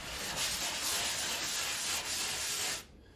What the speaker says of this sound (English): I'm just going to sand it lightly